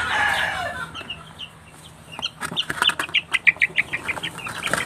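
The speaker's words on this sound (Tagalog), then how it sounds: "Rhode Island to. May tatlong Rhode Island dito, eh." Rhode Island chickens cluck in a rapid run of short, sharp calls that grow louder toward the end. A brief squawk opens the stretch, with no talking.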